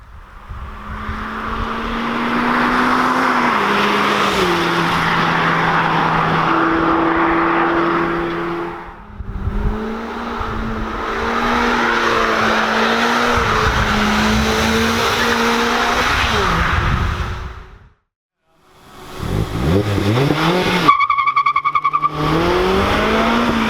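A Mazda Miata ND 30th Anniversary roadster drives hard, its engine revving up and down through gear changes with a steady loud drone, brief lifts, and sharp tire squeal near the end.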